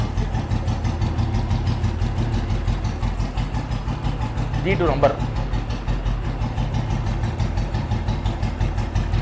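A restored Royal Enfield G2 motorcycle engine idles with a steady, even thump close by, while someone talks over it throughout.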